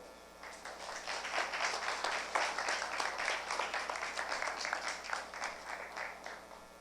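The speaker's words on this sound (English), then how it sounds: "Please welcome Dr. Yoon with a big round of applause." An audience at a cybersecurity forum welcomes the speaker with applause, a full crowd clapping that swells quickly, holds steady for several seconds, then tapers off.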